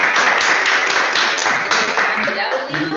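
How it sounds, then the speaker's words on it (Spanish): Applause from a small audience at a cultural project talk for a speaker named Fede: a full, even burst of clapping from nearby hands that holds steady, then eases slightly near the end. "Un aplauso para Fede."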